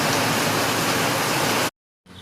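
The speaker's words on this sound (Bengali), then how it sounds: "বাম্পার বৃষ্টি পড়ছে বাম্পার" Heavy rain pours down in Panaji, Goa, heard from beneath a shop awning as a loud, dense, steady roar that cuts off abruptly near the end before a faint hiss returns.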